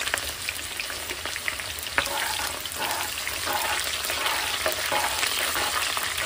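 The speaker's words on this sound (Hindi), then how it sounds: "तो पहले प्याज डाल दी," Chopped onions sizzle and crackle in hot oil in a home kitchen pan for Indian cluster bean cooking, a steady dense frying hiss with a few stirring scrapes, close and alone without talk.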